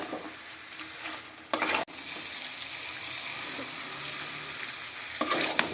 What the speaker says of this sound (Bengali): সব কিছু মশলা দিয়ে আর আমরা একটু চিকেনটাকে খুব ভালোভাবে কষিয়ে নিই